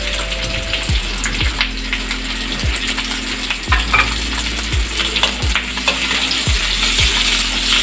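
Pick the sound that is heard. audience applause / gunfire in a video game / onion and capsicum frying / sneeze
onion and capsicum frying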